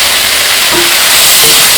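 Sliced capsicum hits a hot pan of softened onions and sizzles with a loud, steady hiss that fills the whole moment, close up and without talk.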